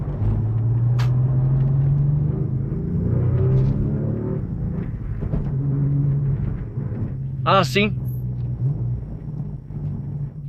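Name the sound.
Porsche 996 engine sound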